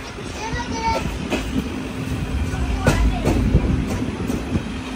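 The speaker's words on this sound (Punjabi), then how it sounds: "ਅਤੇ ਟ੍ਰੇਨ ਗਈ ਆਪਣੀ ਆ" A passenger train travelling from Jammu toward Katra gives a steady, loud rolling rumble with faint clicks and squeals throughout, with occasional voices under it.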